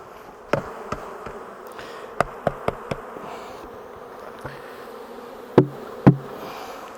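A steady hum of many honeybees buzzing around an open hive as a beekeeper works the frames, punctuated by sharp wooden knocks and taps close by.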